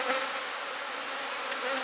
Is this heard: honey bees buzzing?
yes